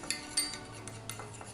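A spoon stirs cake batter with a spoonful of oil in a bowl, giving quiet, irregular clinks and scrapes against the side, close up with no voices.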